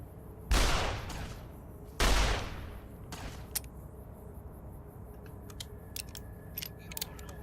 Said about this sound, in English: rapid reload is so cool in this gun